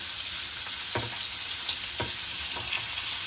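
Pomfret fries in oil in a pan, producing a loud, continuous crackling sizzle with a few brief sharper spits and pops, heard alone without speech.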